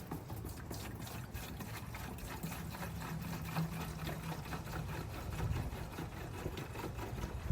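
Coolant pours steadily into the radiator of a 1998 Chevy C/K 1500 pickup, a soft continuous liquid gurgle and trickle heard close up with no talk over it.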